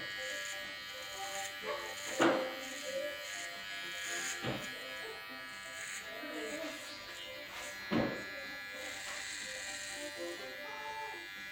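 Electric hair clippers fitted with a 0 guard buzz steadily while cleaning up a man's neckline, a thin close hum with brief louder strokes, under quiet talk.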